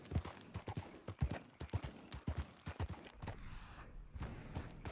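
Horse hooves clip-clopping in the video game Red Dead Redemption 2, a rapid uneven run of close, loud hoofbeats that eases off near the end.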